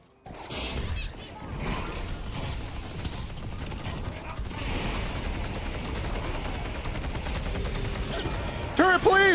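Turret gunfire in the video game Deadlock rattles in rapid, sustained bursts amid layered game effects and clattering impacts, with excited voices talking over the action throughout.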